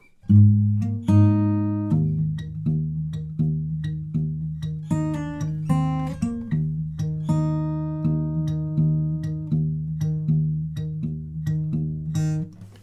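A clean guitar plays a slow, plucked passage, notes ringing out one after another with sustained low tones, fairly close and alone.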